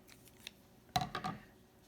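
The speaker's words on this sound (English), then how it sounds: "And then I take my scissors," Scissors snip crochet thread up close, a couple of quick crisp cuts near the end of a quiet moment after faint handling sounds.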